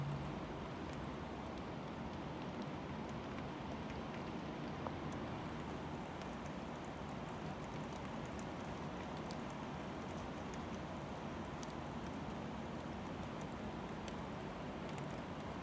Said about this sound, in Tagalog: Lumakas talaga ang ulan